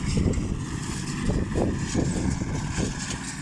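Engine of a Massey Ferguson hay baler running, a steady low rumbling drone with rhythmic pulsing surges, fairly close and alone without talk.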